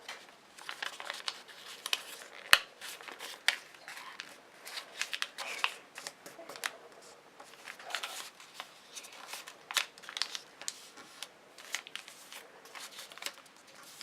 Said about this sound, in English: fold this upwards on both sides using diagonal creases like this, and then fold this down flatly